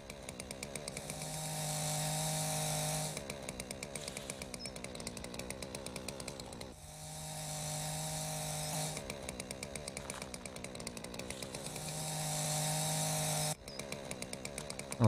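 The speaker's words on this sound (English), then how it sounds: "use your chainsaw" Steady chainsaw drone cutting into rock at a fossil excavation site in the game Dinosaur Fossil Hunter, revving in long sustained bursts with brief dips between cuts, loud and close with no talk.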